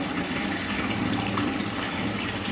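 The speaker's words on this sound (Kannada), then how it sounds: "ಈಗ ನೀರು ಬಿಟ್ಟು ಚೆಕ್ ಮಾಡಿ ನೋಡೋಣ" Water gushes at full flow from a freshly repaired household tap, a steady, close rushing splash that continues unbroken and alone.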